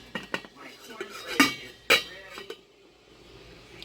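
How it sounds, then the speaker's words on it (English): A metal pot lid clanks twice as it is set partly over a pot of simmering pinto beans, with lighter clinks around it, close and sharp, and a voice speaking faintly between. "I like to put my lid on part way"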